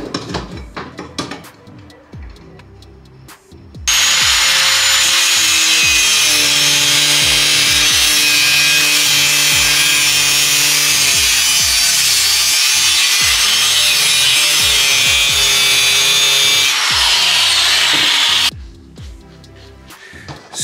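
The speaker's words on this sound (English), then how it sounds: "So what I'm gonna do is I'm gonna cut the mount off of this and then mount this to this." A power saw cuts through a metal mount, starting after a few seconds of handling noise and then running loud and steady for about fourteen seconds before stopping, with clattering before and after.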